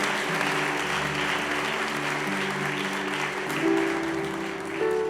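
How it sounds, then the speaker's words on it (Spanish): A church congregation applauds over sustained organ or keyboard chords, the clapping steady and moderately loud throughout. "Un aplauso para estos guerreros y guerreras."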